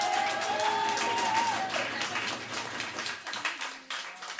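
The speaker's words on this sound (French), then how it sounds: "un tonnerre d'applaudissements pour Madame Pena qui arrive avec nous." A school audience at a high school talent day gives a teacher a burst of applause, loud at first and thinning out, with a voice calling over the clapping.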